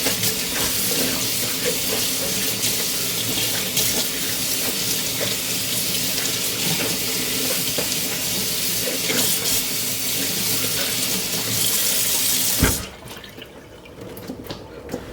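Kitchen tap water runs steadily and loudly for about twelve seconds while corn on the cob is prepared, then cuts off abruptly, leaving quiet room tone.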